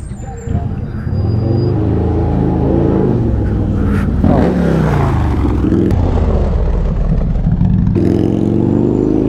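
A motorcycle engine revs hard nearby, loud and continuous throughout, its pitch sweeping up and down through repeated throttle blips.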